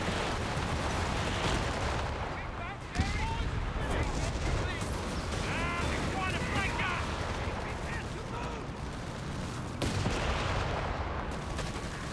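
Machine gun bursts ring out in a Company of Heroes 3 2v2 battle, buried in constant gunfire and booming explosions, while commentators talk over the action throughout.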